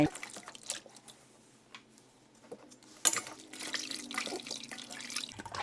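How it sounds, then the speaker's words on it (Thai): Large shrimp being rinsed in water in a home kitchen: quiet sloshing, dripping and splashing that grows louder and busier partway through, with no clear talking. "เราก็จะซาวออกจากน้ำ"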